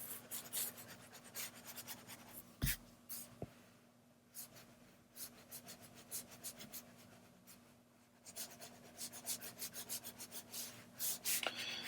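Soft, quiet scratchy strokes of a stylus coloring on a tablet, in quick bursts with pauses, close up and alone.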